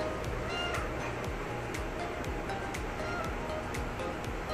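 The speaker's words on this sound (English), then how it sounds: "You want to stop meowing?" A husky-voiced cat meows repeatedly in short raspy calls over a steady background rush, close to the listener, with rhythmic rasping bursts throughout.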